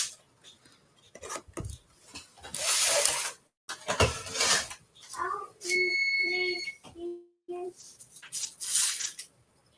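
A smoke detector in a home kitchen gives a short run of high, thin electronic beeps, heard among a person talking and the clatter of dishes and utensils.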